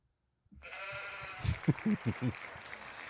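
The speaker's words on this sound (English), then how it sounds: "What did the sheep say?" A sheep bleats in a single drawn-out, wavering call of four or five pulses, close and clear over a steady hiss, with no talking.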